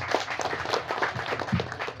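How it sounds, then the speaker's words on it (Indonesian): Scattered applause from an event audience at a discussion forum on ornamental plant business development, a steady wash of moderate clapping with some murmuring, continuous for two seconds. "Tepuk tangan sekali lagi dong."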